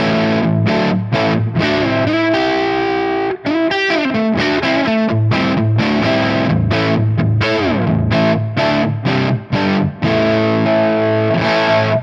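A distorted electric guitar on its neck pickup plays through an amp model, thick and warm with sustained chords and rhythmic chugging stops, loud and continuous without any voices.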